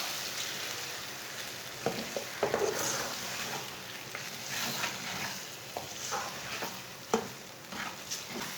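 A spoon stirs eggs into pumpkin curry in a pan, making a soft, quiet sizzle with scattered scraping and clinking strokes at an uneven pace.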